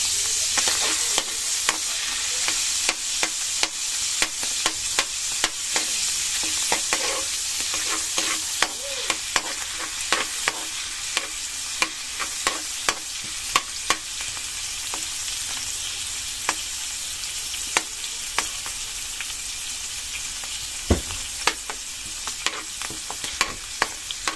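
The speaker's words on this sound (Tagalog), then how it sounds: "tayo muna po ay magigisa ng sibuyas at bawang dito sa ating mantika" Onion and garlic sautéing in oil for pancit canton guisado, a continuous bright sizzle with frequent sharp spatula clicks and scrapes against the pan, close up and without talk.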